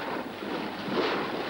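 Strong wind and spray while racing 505 sailing dinghies at a 1973 world championship, a dense continuous rushing roar of air and water, loud and unbroken, with no talk.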